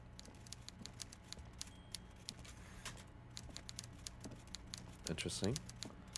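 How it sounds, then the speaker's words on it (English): Keyboard typing in Disco Elysium clatters in quick, irregular bursts of sharp clicks at low volume over a faint ambient hum, and a voice speaks briefly near the end. "I hear typing."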